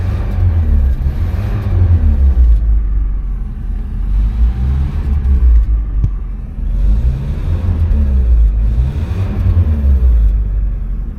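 Subaru Brat engine revving up and back down in repeated swells over a deep, close rumble, three or four rises across the stretch with no talking.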